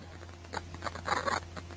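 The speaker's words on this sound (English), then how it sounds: "you see me shuffling" A deck of cards is shuffled by hand in rapid riffling, papery bursts that swell toward the end of the clip over a steady low electrical hum, with no talk.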